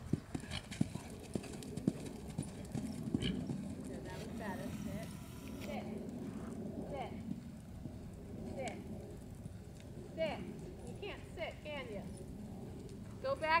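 Horse hooves clip-clopping across an arena during a jumping and canter riding lesson, moderately close, with an instructor talking over the footfalls.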